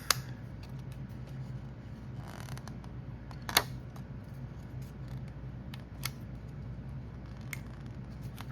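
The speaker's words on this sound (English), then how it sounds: "Probably need to use some scissors." Scissors cutting a paper stencil, a few sharp isolated snips spaced seconds apart over a quiet room background, close and crisp, with no talk.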